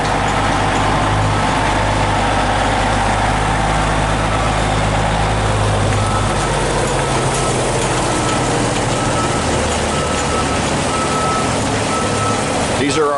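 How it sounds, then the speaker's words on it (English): Heavy haul trucks sit idling in a queue beside an asphalt milling job, waiting to carry milled asphalt to the stockpile; a deep engine rumble runs throughout with a reversing beeper and a voice talking over it. "These are our trucks that are queuing up to move the asphalt down to the stockpile area."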